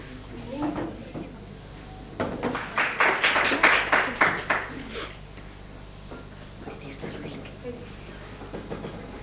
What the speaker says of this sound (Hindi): एक बार ज़ोरदार तालियां हमारे मीडिया के बंधुओं के लिए भी